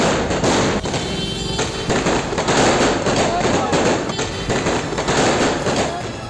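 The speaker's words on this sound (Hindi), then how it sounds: "कार के अंदर आतिशबाजी का काफी सामान रखा था जिसमें आग लगी और वो कार के अंदर ही फटने लगी।" Fireworks stored inside a car at a wedding celebration in Chhutmalpur, Saharanpur, burst in rapid, loud, crackling volleys of bangs and pops, continuous and close throughout.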